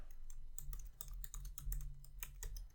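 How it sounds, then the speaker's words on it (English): Rapid typing on a computer keyboard, close and fairly quiet, with irregular clusters of clicky keystrokes over a low steady hum and no talking. "This moment of typing"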